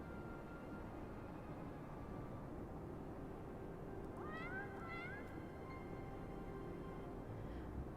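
A cat meows in the Final Fantasy video game: a short pair of rising and falling meows sounds midway through, fairly faint over a steady background hiss.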